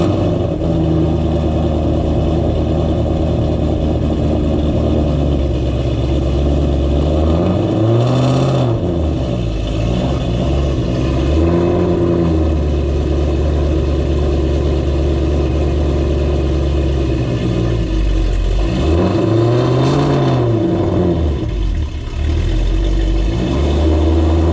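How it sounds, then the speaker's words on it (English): A cammed Shelby GT500 on stock exhaust mufflers cold-starts and settles into a loud, lumpy idle close by, with a couple of sharp throttle blips rising and falling over the steady rumble. "So that's the cold start with the stock mufflers."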